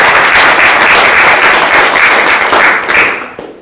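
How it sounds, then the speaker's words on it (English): Loud, close audience applause for a speaker named Lisa, a full sustained burst of clapping that thins out and fades near the end. "Let's give her a big round of applause."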